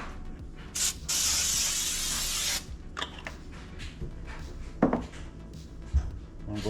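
Baker's Joy baking spray hisses steadily into a pan for about a second and a half, close and fairly loud, followed by scattered kitchen clatter and faint knocks.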